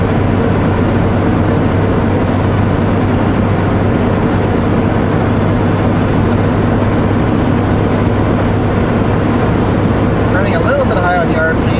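A Kenworth W900L truck with a 500hp engine held high at about 2,000 RPM in 14th gear in manual mode, producing a steady, loud, continuous low drone that stays constant throughout.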